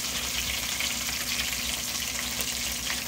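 Chicken wings coated in potato starch deep-frying in hot oil over strong heat, a dense, steady, loud sizzle that holds evenly throughout without pause.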